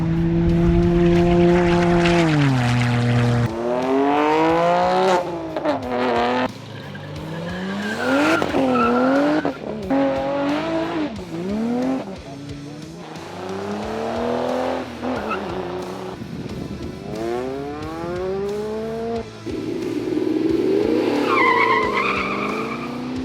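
Race cars accelerate on a standing half mile runway event, engines revving hard through repeated rising gear-change sweeps, loud and close, with a tire squeal near the end and no talk.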